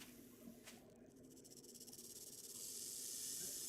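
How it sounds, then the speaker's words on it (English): Snake in the video game 7 Days To Die giving a soft, rising hiss that grows steadily louder over a quiet background. "And that's a snake."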